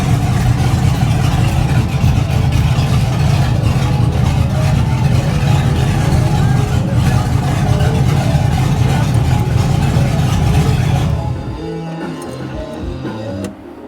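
An LS-swapped Grand Wagoneer engine idles loudly and steadily as it warms up to temperature, a close, continuous rumble that drops off sharply near the end.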